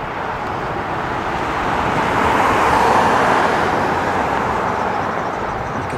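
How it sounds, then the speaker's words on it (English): Traffic on busy Highway 11 near Lumsden, Saskatchewan, heard from a ridge as a continuous distant road roar that swells gently toward the middle and then eases, with no talking. "See traffic on it there."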